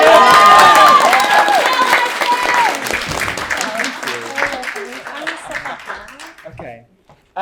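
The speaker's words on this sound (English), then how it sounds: "lighting man needs clapping" Theatre audience applauding the lighting man after a 2022 school production of A Midsummer Night's Dream, loud dense clapping with cheering and crowd voices that fades out toward the end.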